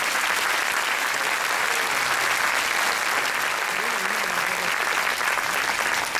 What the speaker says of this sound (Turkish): ekibimize bir büyük alkış daha rica ediyoruz